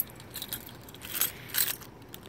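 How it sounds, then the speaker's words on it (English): Metal keys jangling briefly in a hand in two small bursts, close and fairly faint, next to a 1998 Honda Civic EX. "I actually have my keys here"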